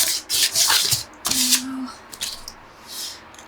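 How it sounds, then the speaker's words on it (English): A table being sanded by hand during an upcycling project, rough bursts of scratchy rubbing that start and stop, with a brief hum and some handling noise between strokes. "Alright, enough sanding for today."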